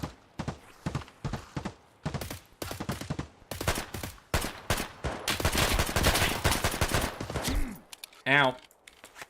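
Gunfire in Escape from Tarkov, a hardcore PvE raid: repeated sharp bursts and single shots crack out in irregular clusters, loud and close, with a denser sustained volley near the end.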